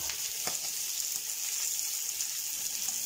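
Chicken sears in a frying pan for a Peruvian pollo en salsa huancaína, giving a steady, continuous sizzle with a few faint clicks and no talking.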